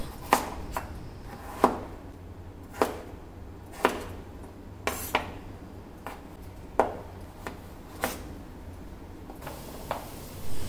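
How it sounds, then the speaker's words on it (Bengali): Knife chopping vegetables for a garlicky Chinese-style vegetable dish, about a dozen sharp, separate chops spaced a second or so apart over a faint steady hum, with no talk. "তো সব সবজি আগে কেটে রেডি করে নিচ্ছি"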